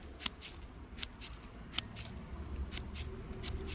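Gardena ComfortCut cordless shears trim a thuja shrub, giving sharp, crisp snips every half second or so over a steady outdoor background hiss.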